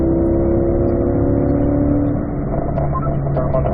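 Car engine on a race track in fourth gear, rolling into the throttle: a loud, steady droning engine note close up, its pitch shifting partway through as it pulls.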